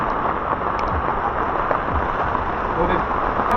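Rain falls steadily at a beach campsite in Casapsapan, Aurora, a dense, constant hiss of drops pattering on surfaces nearby, with a low rumble underneath.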